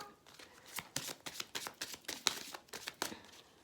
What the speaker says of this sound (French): On va aller tirer une carte.